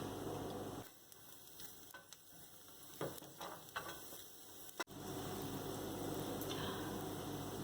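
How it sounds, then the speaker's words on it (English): Minced garlic sautéing in a pot, a soft continuous sizzle that dips briefly in the middle with a few light scraping clicks, then resumes steady and faint. "I will saute my garlic until it's cooked but not burnt"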